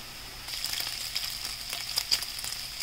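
Pork belly sizzles and spits as it fries in its own rendered fat, a steady close crackle with scattered sharp pops.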